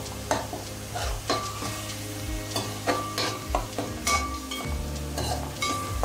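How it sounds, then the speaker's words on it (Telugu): Masala paste for a crab curry fries loudly in a pan, its sizzle broken by rhythmic scraping strokes of a spoon as it is stirred, with occasional metallic clinks. No voices. "ఈ మసాలా కూడా పచ్చివాసన పోయే వరకు వేపుకోవాలి."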